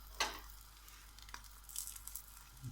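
Sausage frying in a pan beside egg toast, a soft steady sizzle with a sharp clatter near the start and a few light pan knocks later, quiet and close.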